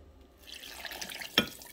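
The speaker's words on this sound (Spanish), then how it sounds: "Y también voy a agregar la agua" Water, the liquid used to soak chiles, is poured into a pot of beef tripe menudo soup, a soft steady trickle ending in a brief splash.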